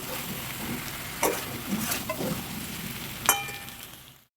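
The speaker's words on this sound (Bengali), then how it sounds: "ভালো করে একটু মিশিয়ে নিচ্ছি" Fried prawn pakoras stirred into chilli gravy in a pan, a low bubbling sizzle with a few distinct spoon scrapes and clinks against the metal, close and unaccompanied by speech.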